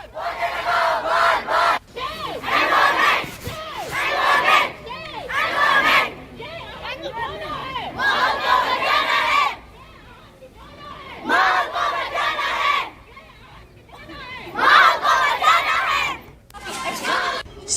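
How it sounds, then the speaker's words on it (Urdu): Rally participants on World Environment Day in Pampore, Kashmir, chant slogans in loud, rhythmic group shouts, each burst separated by brief pauses, with crowd chatter in between. "اس موقع پر شرکاء نے ماحولیاتی نظام کے حق میں نعرے لگائے"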